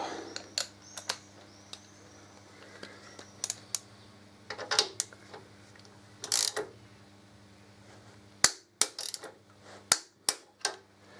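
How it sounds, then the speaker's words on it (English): A ratchet on an extension tightens a bolt on a 2014 Harley-Davidson motorcycle, producing bursts of sharp clicking strokes spaced a second or so apart, close and crisp over a quiet background. "Put the extension back on and tighten the back one up."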